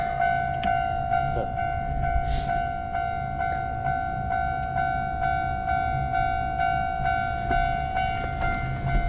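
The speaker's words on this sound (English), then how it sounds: "Take a look at the cherry blossoms and watch for the trains. It's coming that way." A train passes near a bicycle route through Katsura, Kyoto, its steady rumble joined by a sustained whistle-like tone and a few sharp rail clicks, all fairly faint and continuous.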